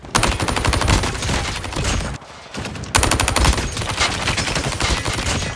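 Rapid automatic gunfire from a first-person shooter video game, loud and continuous bursts with a brief pause before firing resumes.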